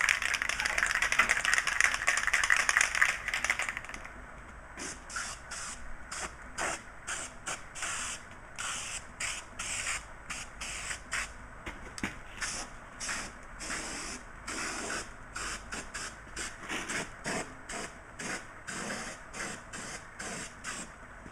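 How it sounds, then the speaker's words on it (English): High temperature cold galvanizing compound is sprayed from an aerosol can onto Willys CJ3B Jeep body panels. One long hiss comes first, then a string of short sharp spray bursts in an uneven rhythm, close and fairly quiet with no talk. "we'll shoot a very light coat of the high temperature cold gal compound"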